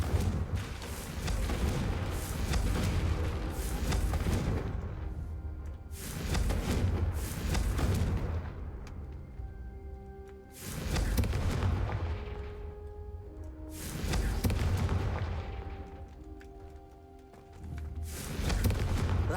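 Confringo spell explosions in the video game Hogwarts Legacy, a series of heavy booming blasts, each swelling and fading over a few seconds, repeating about four times with no talk.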